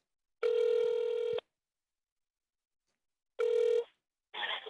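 A telephone rings for a phone interview, with two loud, clean rings separated by silence and followed by a short burst of a different tone, heard alone with no talk.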